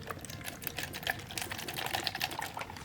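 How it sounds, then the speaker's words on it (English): Rubbing alcohol is poured into a small cup over a Navage nose cleaner piece. A close, bubbling liquid trickle runs for a few seconds with no one speaking. "I just pour some alcohol on top of it"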